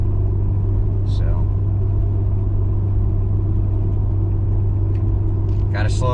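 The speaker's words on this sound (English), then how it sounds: "Truck's kind of shifting around a little bit with the wind, and we just started going uphill a little bit a while back" Pickup truck cabin on a windy highway climbing uphill, with a loud steady engine and road rumble throughout and a few faint brief squeaks on top.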